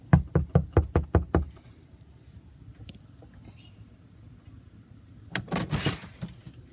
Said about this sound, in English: I think I'm just gonna knock on his door